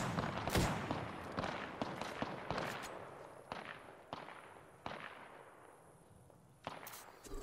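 Gunfire in an online shooter game: sharp, scattered cracks and bursts ring out at irregular intervals, some loud and close, others fainter and distant, over a quiet background.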